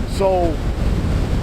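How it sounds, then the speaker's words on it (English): Ocean waves surge onto the shore and pull back on a rough sea day, giving a steady, loud wash with wind buffeting the microphone. A voice speaks briefly at the start. "you would notice just the pulling back of the waves"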